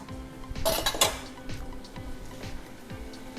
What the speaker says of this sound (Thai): เดี๋ยวเรามาตักใส่จานกันนะคะ